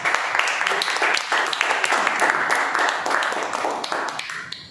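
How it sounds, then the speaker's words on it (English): A Toastmasters club meeting audience claps warmly in a crowded room, a dense, even patter of hands that fades gradually toward the end, with voices faintly underneath. "Let's have a round of applause."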